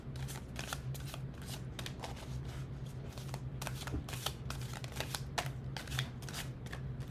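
A deck of Abraham Hicks oracle cards is shuffled close by. Quick, crisp riffling bursts repeat steadily for several seconds, with a faint low hum underneath and no talking.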